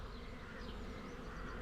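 Honeybees buzz steadily around an open hive during an inspection after surviving the winter, a dense continuous drone of many wings close by, with no talk.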